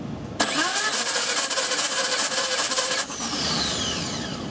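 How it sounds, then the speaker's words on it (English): A car engine cranking during a wet compression test with oil added to the cylinder, a loud rapid chugging starter burst lasting a few seconds before cutting off, leaving quieter background hum. "We're gonna do the same thing, 5 cranks."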